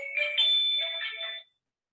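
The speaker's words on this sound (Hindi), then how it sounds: "सूर्यवंशी सर का फोन" Mobile phone ringtone for an incoming call, a short melodic chime phrase of a few bright notes that plays alone and then stops abruptly.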